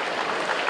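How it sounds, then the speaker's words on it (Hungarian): A crowd at a dragon boat championship award ceremony applauds in a brief, dense, steady burst of clapping. "Egy nagy tapsot mind a két szervezőgárdának,"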